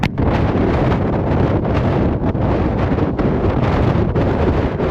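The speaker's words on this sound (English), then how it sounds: "It's crazy how hard the wind is." Strong wind buffets a bare, unshielded microphone outdoors on a hiking trail in Wales, a loud, continuous roaring rumble with gusty surges and brief lulls, no voices.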